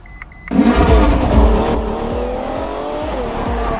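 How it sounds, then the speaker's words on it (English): A Ferrari F12 Berlinetta GT car bursts into loud engine revving with tires squealing, the screech and roar close up, then settling into a sustained engine note with rhythmic thumps. "The F12 is a GT Berlinetta."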